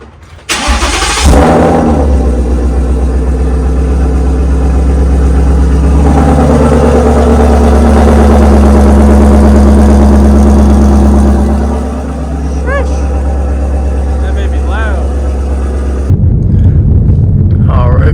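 A straight-piped Ford Mustang GT 5.0 fires up with a sharp starter burst, then settles into a loud, rumbling, uneven idle with brief throttle blips, close and steady for about fifteen seconds before the tone shifts.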